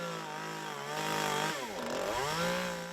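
A chainsaw cuts at the foot of a cliff face during rock-clearing work, its engine whining and dipping in pitch as it bites in, heard fairly faint and distant for a few seconds.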